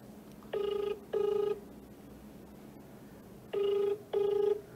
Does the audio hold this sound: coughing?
no